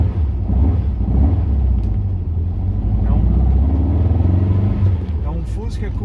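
A Volkswagen Beetle (Fusca) with a naturally aspirated 1.9 engine and a rear radiator drives along, its engine rumbling low and steady, fairly loud and close throughout.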